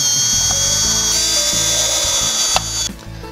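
Power driver fastening a pre-cut TruLegacy V-groove stick soffit corner piece at the face, a steady high whine running near and loud for about three seconds before cutting off, with no talk.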